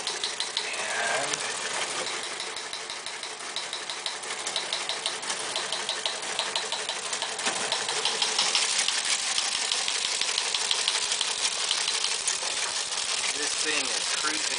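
A Teletype Model 28 teleprinter prints at 60 words per minute with a continuous rapid mechanical clatter of typebars and gears that grows slightly louder partway through.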